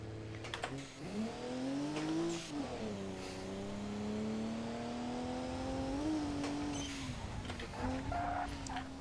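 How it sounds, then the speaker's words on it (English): BMW car engine in a driving video game on mountain touge roads, revving steadily with pitch rising and falling through gear changes, loud and continuous for the whole stretch with no talk over it. "This is just your average BMW on its daily commute, destroying his gearbox"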